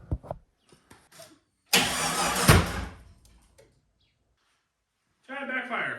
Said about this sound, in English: Giant backfire.